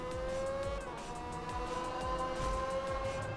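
Race car in the Forza Horizon video game on the Fujimi Kaido mountain course, engine droning steadily with shifting pitch, gear changes and tire squeal, loud and continuous without talk.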